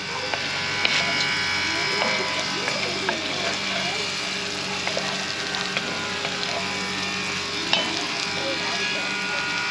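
Bacon being stirred into cooked-down caramelized onions in a pan, giving a steady sizzle with faint scraping and clicking from the utensil. Soft background noise runs throughout, and a voice is heard now and then.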